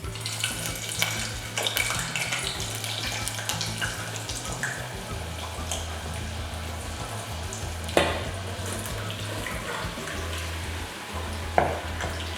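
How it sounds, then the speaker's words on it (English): Potatoes and onions drop into roughly two cups of hot oil on a stovetop for a Spanish omelette, giving a continuous close sizzle and crackle with occasional louder pops and spits. "I'm just going to add my potatoes and my onions to this."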